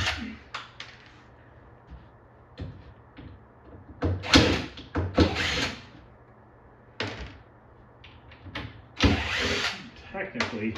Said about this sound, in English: So there's some metal brackets under here I need to unscrew.